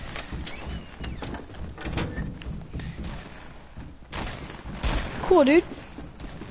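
Gunfire in Fortnite Battle Royale, scattered shots and thuds under game effects, with a brief spoken remark partway through.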